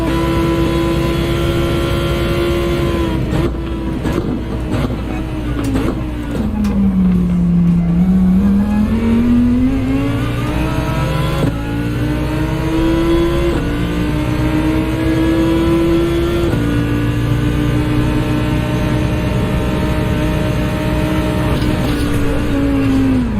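Race car engine in the Gran Turismo video game, a loud, continuous tone that rises and falls through revs and gear changes across the whole stretch, with no talk.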